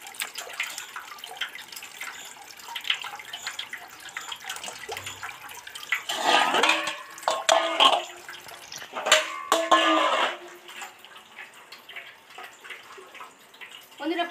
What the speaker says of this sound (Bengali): ফুটো পাটিতে নিয়েছি, জলটা সুন্দর করে ঝরে যাবে বলে